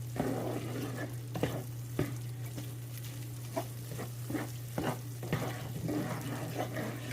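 Spices heated on a stove top for beef chili give a soft continuous sizzle over a low steady hum, broken by regular light taps and scrapes of a utensil.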